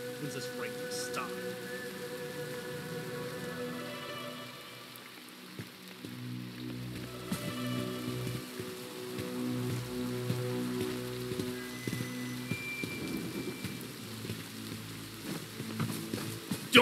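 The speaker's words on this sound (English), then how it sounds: "When's this rain gonna stop?" Steady rain falls in Bright Memory Infinite, a soft continuous hiss that holds evenly throughout under low tonal game sounds and occasional quieter noises.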